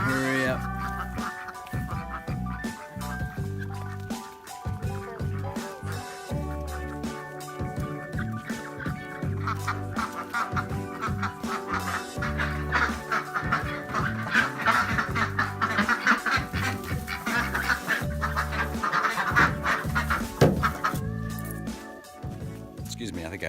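Ducks quacking in a coop as they are put to bed for the night, a steady jumble of calls running under a person talking throughout.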